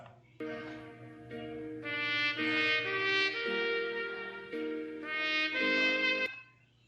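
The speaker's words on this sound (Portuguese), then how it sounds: "Esse é o som do trompete." A trumpet plays a short melodic phrase of several notes, fairly quiet, over a steady low background hum.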